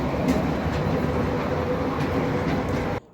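Miniature ride-on train running at a cafe, a steady rolling rumble with faint rail clatter heard up close and continuous, stopping abruptly at the end.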